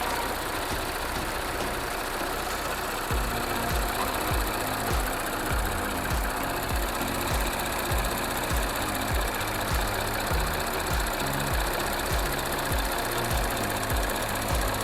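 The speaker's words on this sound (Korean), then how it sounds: "엔진 소리 일정하네요" An Audi A7 55 TFSI engine runs at a steady idle, heard up close in the engine bay, with a regular low pulsing knock repeating evenly throughout.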